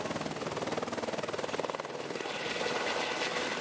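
A helicopter flies steadily over Niagara Falls in winter, its rotor thumping in a fast, even pulse over a constant engine whine, with no one talking.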